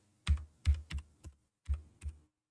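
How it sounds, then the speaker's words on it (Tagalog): A computer keyboard pressed a handful of times in a quiet room, six separate thuddy keystrokes spaced unevenly over about two seconds, close and clear with no voices. "Shift plus spacebar tayo sa keyboard, then type natin delta"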